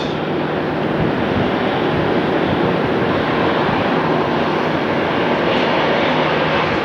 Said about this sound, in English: they're inbound from Los Angeles as SkyWest 3951. Alright, let's see how they do as they approach the fun and short runway 7 right.